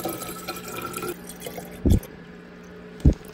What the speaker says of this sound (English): Gotta fill up the hydro flask.